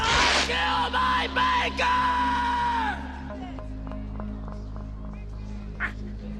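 A man screams loudly in a horror drama scene after repeatedly banging his head against a speaker, a strained, wavering yell lasting about three seconds, then dropping to a low hum with faint scattered sounds.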